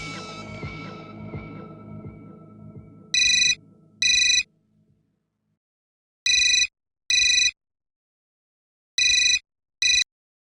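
A telephone rings in a home in a comedy serial, sounding three double bursts of bright electronic trills spaced evenly apart after an earlier clatter of household noise fades to silence.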